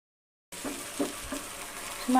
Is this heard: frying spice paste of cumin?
yes